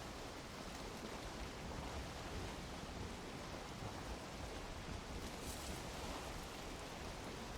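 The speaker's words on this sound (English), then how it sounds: "Just listen to the sweet sound of the waves" Ocean waves at sea in the game Valheim, a steady, broad wash of surf hiss that rolls on without pause, fairly soft and unbroken by voices.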